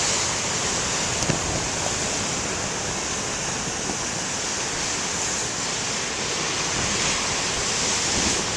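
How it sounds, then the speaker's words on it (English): Big ocean waves break and wash in a steady, continuous roar of surf at a beach, loud and unbroken with no voices. "We got some nice waves."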